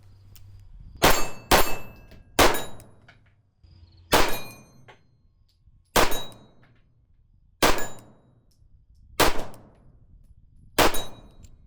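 Eight sharp pistol shots from a Lionheart Vulcan 9 carry handgun, each followed by a bright ringing clang of a steel plate 25 yards downrange, fired at a steady unhurried pace with brief decays between, no talk.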